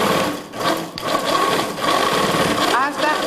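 A home sewing machine stitching fabric runs steadily in a close mechanical whir as someone talks over it in Spanish.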